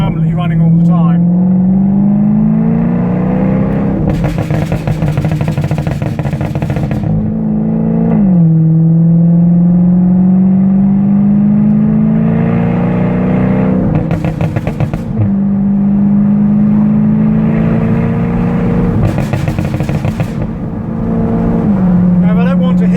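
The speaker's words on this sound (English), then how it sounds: "I'll keep her in burble activation mode as we drive along." A tuned Jaguar F-Type is driven in second gear, its engine drone rising and dropping with gear changes while bursts of exhaust crackle and burble break out repeatedly, loud and close.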